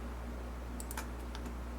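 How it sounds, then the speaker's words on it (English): Short burst of clicky keystrokes on a computer keyboard, a handful of quick taps clustered together over a steady low hum, close and fairly faint. "I'm just having a hard time typing with this."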